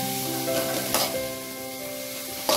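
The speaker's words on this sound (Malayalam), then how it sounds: "സവാള നമ്മൾ നല്ല പോലെ വഴറ്റിയെടുക്കണം" Sliced onions sautéing in oil for a Malabar prawn biryani, a bright steady sizzle with a couple of sharp scraping stirs of a spatula in the pan, near and without speech.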